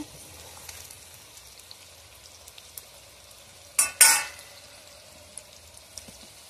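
Ground spice mix, including chilli powder, is tipped onto raw mango frying in oil, giving a sudden short burst of crackling sizzle and a clink of a spoon against a quiet kitchen background.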